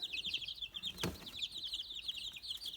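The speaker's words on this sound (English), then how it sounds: "They are so puffy and adorable. There's another one. They are cute. Chicks everywhere." Young chicks and chickens, including blue Australorps, peep in a continuous high-pitched chorus, with a single sharp knock partway through and no voices over the birds.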